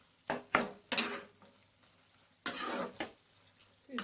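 Ginger garlic paste is stirred into potato gravy in a pan, with several sharp scrapes and clanks of a spoon against metal and a soft sizzle beneath, in short bursts separated by quiet gaps.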